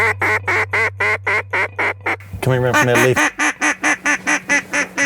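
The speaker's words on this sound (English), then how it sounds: "there's a mallard." A mallard duck quacks repeatedly at dusk during a duck hunt, a loud, rhythmic run of clear quacks close by, with a brief overlapping flurry midway and a voice speaking over part of it.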